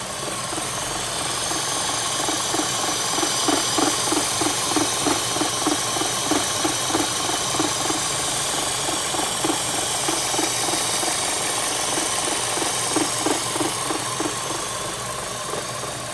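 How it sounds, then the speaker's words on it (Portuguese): A Chevrolet Cruze engine idles steadily with a faint air hiss near the oil filler cap, a fast pulsing rumble running evenly throughout with no talk. "percebe o chiado que faz ali na perto da tampa do óleo"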